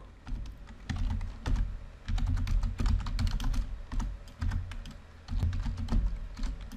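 Code is typed on a computer keyboard for an Oracle PL/SQL tutorial, a close, rapid run of key clicks in bursts with brief pauses between words.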